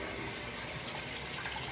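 A kitchen tap runs steadily while something is rinsed beneath it, a close, even rush of water for under two seconds with no voices.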